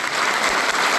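Audience at a gathering of villagers in Barmer, Rajasthan, clapping together in a dense, steady wave of applause that stays loud and even throughout, with no voices over it.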